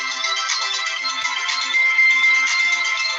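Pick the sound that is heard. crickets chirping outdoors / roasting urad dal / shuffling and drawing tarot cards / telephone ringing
telephone ringing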